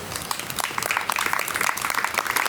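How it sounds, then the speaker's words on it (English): A crowd applauding at a Vietnam War dog memorial event, dense and steady, many hands clapping together at close range for the whole stretch. "I think that deserves a big round of applause"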